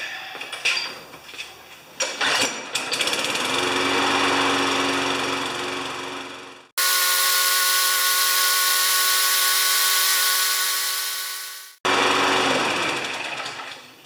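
A small lawn mower engine with a slight misfire runs close and loud in a steady drone, its sound cut off sharply twice before resuming.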